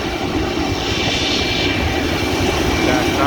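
A GE CW44 diesel locomotive, an older turbocharged unit, rumbles steadily while hauling a loaded coal train on a mainline, a continuous broadband engine roar with a low throb held at constant loudness throughout.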